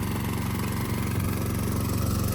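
The engine of a gold dredge runs at a steady, close, monotonous drone while its hose sucks up rocks, gravel and sand from a streambed.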